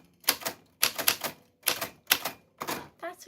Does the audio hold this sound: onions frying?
no